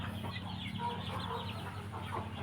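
Chickens cluck steadily at a farm, a Mahanakhon and Ko Sem crossbred flock, in a dense, continuous mix of overlapping calls at close to moderate distance.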